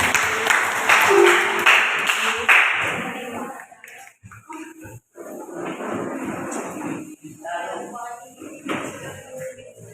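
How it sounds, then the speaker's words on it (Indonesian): A classroom of students gives a short round of applause for the first student group, a dense burst of clapping lasting a couple of seconds before people start talking. "Beri tepuk tangan untuk kelompok 1."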